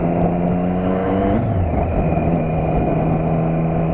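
A Suzuki 650 motorcycle engine drones steadily while being ridden, with its pitch dropping at a gear change early on and then holding an even, loud run.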